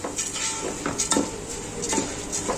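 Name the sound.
stirring rice in a cooking pot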